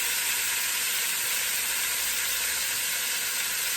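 Oxtails browning in a little oil in a frying pan give a loud, steady, close sizzle with no voices.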